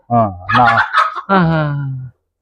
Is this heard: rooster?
yes